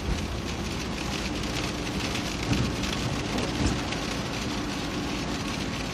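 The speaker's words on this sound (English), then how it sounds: "it's rain right now" Steady rain pours and patters continuously on surfaces outdoors near Nordegg, a dense even hiss with a few faint low rumbles underneath and no voices.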